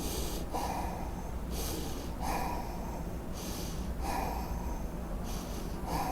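A yoga teacher demonstrates involuntary breathing with slow, rhythmic breaths, alternating inhales and exhales in four even cycles at close range over a steady low background, with no talking.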